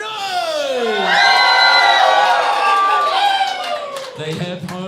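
An arena crowd at a robot combat event, New Zealand against Brazil, roars and whoops loudly in a sustained swell of cheering and shouting, with voices rising and falling through the noise.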